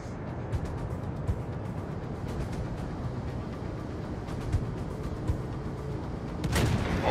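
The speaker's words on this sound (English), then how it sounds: "Concentrate fire on the enemy warship." Warship guns fire in World of Warships: Legends, with muffled booms and scattered shots over a continuous rumbling bed and a sharper burst near the end.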